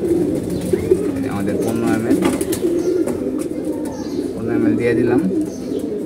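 Sick domestic pigeons coo in low, rolling bursts close by throughout, while someone talks over them indoors.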